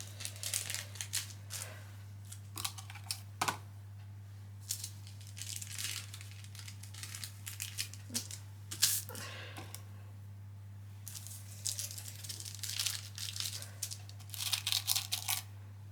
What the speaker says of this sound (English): I'm going to come in and pin it all now. Just taking the time getting this pinned on.